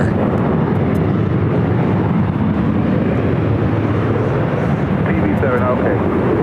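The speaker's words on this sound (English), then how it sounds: "United Airlines flight 1791 heading to SFO, the 737-900ER." A United Airlines Boeing 737-900ER jet at LAX gives a steady, loud broadband roar with no change in level across the clip, and a voice talks over it.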